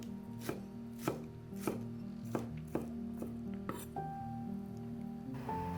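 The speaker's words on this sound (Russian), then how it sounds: "А тем временем нарезаем немного зеленого лука." A knife chops green onion on a board in a steady rhythm of sharp, evenly spaced thuds, close and moderately loud, with a soft background hum.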